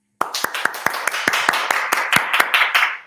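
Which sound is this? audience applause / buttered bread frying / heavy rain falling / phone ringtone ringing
audience applause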